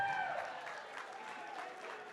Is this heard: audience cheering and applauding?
yes